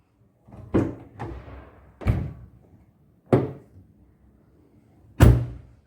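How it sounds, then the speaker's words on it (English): Car door fitted with a DIY edge protector swung repeatedly against a wall, giving five separate close, dull thuds spaced about a second apart in an otherwise quiet setting. "And here goes my beloved car door in the wall."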